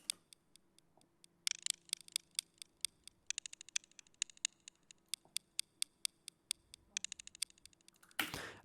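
Crisp, thin hi-hat ticks in quick bursts and rolls, shifting up and down in pitch like steps, ending with a brief noisy swell.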